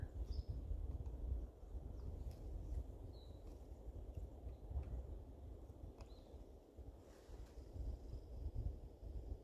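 Steady wind outdoors buffets the microphone at a shooting range where a PCP airgun is being sighted in on a tripod, a continuous low rumbling roar with faint bird chirps in the distance and no talking.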